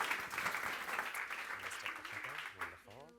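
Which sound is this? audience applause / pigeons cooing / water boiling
audience applause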